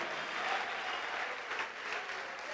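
A church congregation applauds steadily during a service, a dense, even wash of many hands clapping throughout with no break.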